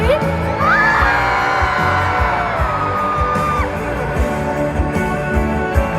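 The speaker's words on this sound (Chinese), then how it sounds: "尖叫聲在哪裡？" A packed arena crowd at a concert in Guangzhou screams and whoops loudly and continuously for six seconds, a dense roar of cheering voices with a few rising shrieks cutting through.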